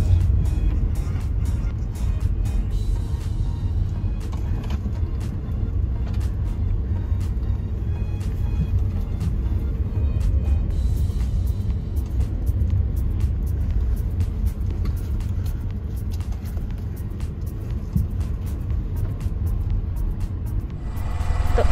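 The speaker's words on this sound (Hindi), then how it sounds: "8 ऐसे बनाना है जैसे ये गाड़ी बना रही है इनोवा" A Toyota Innova driving a figure-eight course at a driving test ground in Delhi, its engine a steady, fairly close rumble that holds throughout with no voices.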